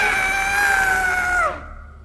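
A human voice imitates an owlbear's screech for a tabletop game, holding a loud, strained, tonal shriek for about a second and a half before it bends downward and cuts off abruptly.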